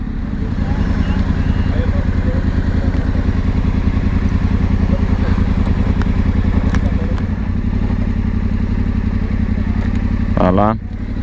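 A motorcycle on a touring trip in Czechia rides slowly into a castle parking area, its engine a loud, close, steady rumble throughout, with a short clatter and rising rev just before the end.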